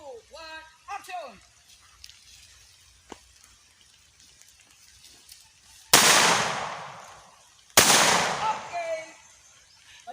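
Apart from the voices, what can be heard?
gunshots fired during a film shoot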